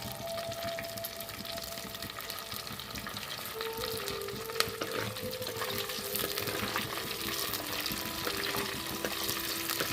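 Curry leaves, cloves and cinnamon fry in hot oil inside a clay pot, giving a steady, close crackling sizzle with stirring scrapes that grow slightly busier for the full stretch.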